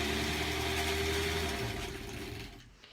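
A sewing machine stitches together granny-square quilt pieces, its motor giving a steady, close, fairly loud whirring hum that runs continuously for about two and a half seconds before winding down and stopping, with no talking.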